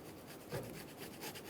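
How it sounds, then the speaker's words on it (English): Old RTV sealant scraped off an aluminum intake manifold on a 2008-2010 Ford F250 Super Duty 5.4L V8, a steady close rasping scrape with repeated strokes and no talking. "let's start scraping all of this off."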